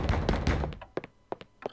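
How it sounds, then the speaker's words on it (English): Dull knocks from the horror game Eternal Darkness: Sanity's Requiem, a short cluster of hollow thuds followed by a few sparser taps, close and moderately loud. "Who is knocking?"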